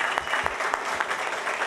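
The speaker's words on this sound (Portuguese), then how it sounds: "Palmas, por favor." Audience applause at a carnival awards ceremony in Caxias do Sul, a steady wash of many hands clapping at moderate distance, dense and continuous with a few louder claps standing out.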